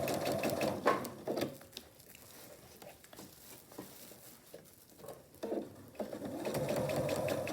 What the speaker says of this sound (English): I make note of where the edge of my presser foot is in relation to my first stitch line, and I just try to keep it as even as I can